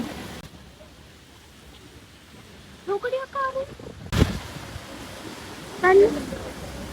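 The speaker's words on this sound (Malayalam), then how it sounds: "മഴ ചെറുതായിട്ട് കൂടിയില്ലേ?" Rain falls steadily outdoors, a soft continuous hiss with a sudden louder burst partway through. Brief voice-like sounds come through over it.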